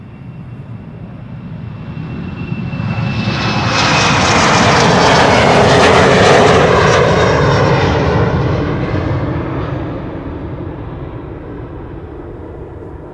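Embraer E2 jet passing at Schiphol Airport, a loud roaring engine rush that swells to a peak mid-pass and then fades away, close and with no talking.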